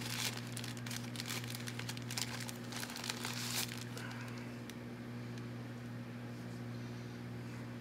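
Torn plastic packaging on a 1986 Rival 2800 air cleaner is pulled open, producing close crinkling and tearing for several seconds that then fades to quieter rustles over a low steady hum.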